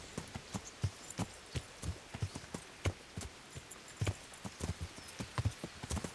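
A horse's hooves clip-clop in the video game Kingdom Come: Deliverance, a steady walking rhythm of distinct close hoof strikes with no talk.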